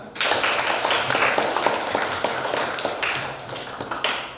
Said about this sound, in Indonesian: Tepuk tangan buat Fania.